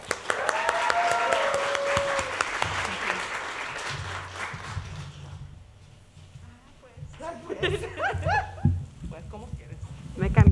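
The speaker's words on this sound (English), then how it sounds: "Please give a round of applause" Audience applause at an artist showcase, a steady round of clapping from a small crowd that tapers off, followed by a brief quiet and then murmuring voices and movement.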